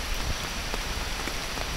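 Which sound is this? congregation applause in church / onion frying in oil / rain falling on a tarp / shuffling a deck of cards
rain falling on a tarp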